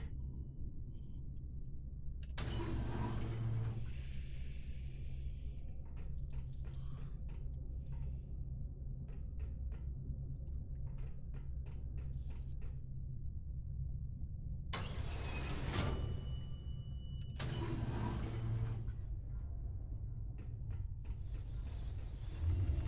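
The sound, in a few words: elevator machinery running in Verne: The Shape of Fantasy video game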